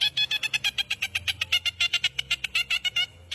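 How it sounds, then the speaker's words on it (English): Dolphin vocalizing underwater: a fast, regular train of bright pulsed chirps, roughly eight per second, loud and close, with a low murky rumble beneath. "Dolphin."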